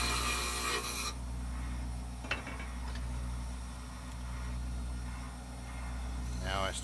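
Lathe tool scraping a spinning piece of wood to shape a handle, a continuous close rasping rub over the steady low hum of the lathe motor, with a brief clunk and a rising whirr near the end.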